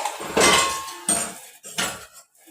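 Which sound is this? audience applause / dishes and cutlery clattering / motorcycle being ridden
dishes and cutlery clattering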